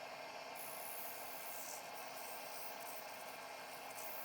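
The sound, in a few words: sanding inside of wood bowl with 80 grit sandpaper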